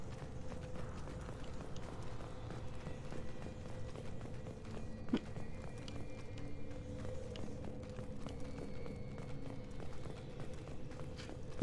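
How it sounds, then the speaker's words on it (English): Repeated footsteps in the video game Mass Effect 2, a steady run of light, clip-clop-like steps with faint mechanical clicks over a constant low game hum, no talk. "I feel like the footstep sounds would be a lot louder as well."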